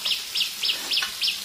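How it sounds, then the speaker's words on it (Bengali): A bird chirps five times in an even, quick rhythm, bright and fairly close, with little else around. "আর এই খাওয়া দাওয়ার সময় বিভিন্ন রকমের পাখির ডাক,"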